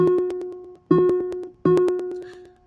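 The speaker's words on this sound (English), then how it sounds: "your high G should sound like this." A single high G ukulele string plucked three times in a row, each note ringing out and fading before the next, with a faint ticking behind it.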